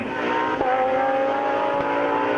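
A modified Porsche 911 GT3 race car with a wider body kit screams past on the East London Grand Prix Circuit, a loud, sustained high engine note that drops in pitch as it goes by.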